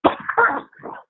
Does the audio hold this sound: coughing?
yes